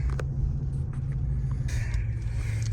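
A Ram TRX pickup truck cruising at night gives a steady, heavy low engine rumble heard from inside the cab, even and continuous throughout, with no voices.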